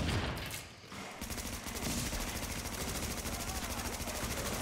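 An automated turret in The Division fires long rapid bursts, a dense loud rattle of gunfire that runs almost without a break after a brief lull near the start.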